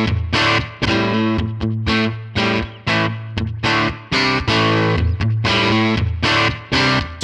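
Electric guitar run through a Tonex pedal's Muddy Tweed tone model with boosted input gain, a loud, saturated, fuzzy tone chugging a rhythmic chord riff with short choked gaps between strokes.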